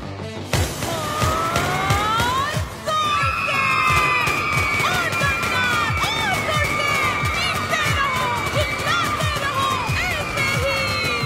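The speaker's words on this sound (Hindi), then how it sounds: "लोगों की चिल्लाने की आवाज।" A crowd of people shouting and yelling together, loud and chaotic, with a wailing siren-like tone running through the noise.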